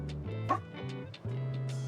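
A stray dog in the cozy video game Tiny Bookshop, near a lighthouse on seaside cliffs, gives a few short yipping barks and a soft whimper over steady background music.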